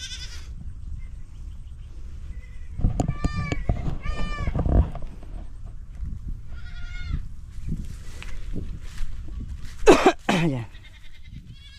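Several goats on a farm bleating at close range, a scattered series of wavering calls over a rustling background, one louder cry near the end, with a short spoken word partway through.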